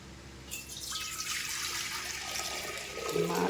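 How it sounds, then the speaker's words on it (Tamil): Water from rinsing rice for Pongal pours into the pongal pot as a steady splashing, gurgling flow lasting several seconds, fairly soft and with no voices. "இப்போ ரெண்டாவது தண்ணியை கழிஞ்சு பொங்கப்பண்ணிலேயே ஊற்றி போகிறேன்"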